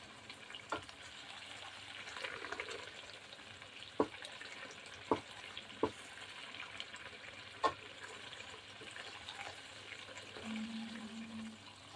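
Coconut milk and oil frying into latik, a quiet, steady sizzle and bubble in the background, broken by a few sharp clicks of a utensil against the pan.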